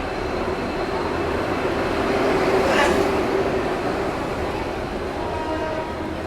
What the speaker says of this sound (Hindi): डेक्कन एक्सप्रेस आ रही है डीजल लोकोमोटिव के साथ, WDP 4D